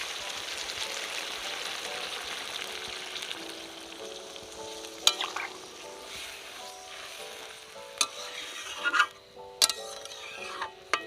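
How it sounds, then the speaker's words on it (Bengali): Chicken kosha curry sizzles in a pan as a little water is added, a steady soft hiss of frying broken by occasional sharp clinks and taps of a utensil against the pan. "এবার আমি একটু জল দিয়ে দেবো, অল্প করেই দেবো জল"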